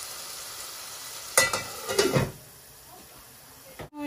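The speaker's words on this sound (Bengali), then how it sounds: "এখন মশলাটা কষানি লাগে" Spice masala of ground turmeric, coriander and curry powder frying in a pan for a rhubarb tok soup, giving a close burst of sizzling and stirring scrapes over a low steady hiss, then fading back.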